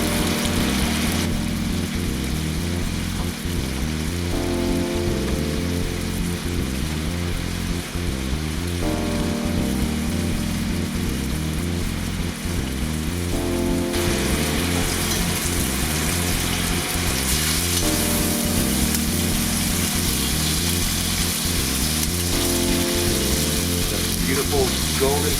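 Salmon fillets frying in a pan, a steady dense sizzle and crackle running throughout, loud and close, with faint kitchen clatter underneath.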